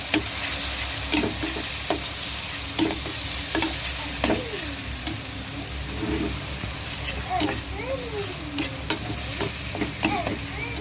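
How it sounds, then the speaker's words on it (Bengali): A ground mixture of coconut, black and white mustard, green chili and salt frying in hot oil, a continuous close sizzle with repeated scraping stirs and occasional ticks from the pan. "সেটা এবার তেলের মধ্যে দিয়ে দেবো।"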